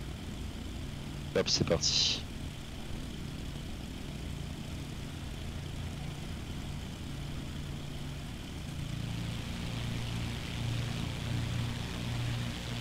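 Light aircraft engine spooling up to takeoff power, a steady droning roar that builds louder toward the end, with a voice speaking over it near the start.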